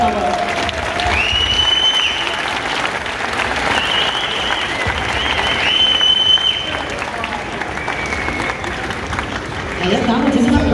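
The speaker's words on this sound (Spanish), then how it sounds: "Un aplauso para Francisco, por favor." An audience at the opening ceremony of a twentieth-edition motorcycle expo applauds steadily for about eleven seconds. A few sustained electronic tones cut in briefly over the clapping.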